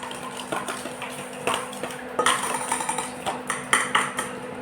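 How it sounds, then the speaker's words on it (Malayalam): Eggs and milk being beaten for an omelette, a utensil clicking rapidly and unevenly against a bowl in close, bright strokes that grow busier and louder toward the end. "നല്ലോണം അടിച്ച് പതപ്പിക്കണം അല്ലേ"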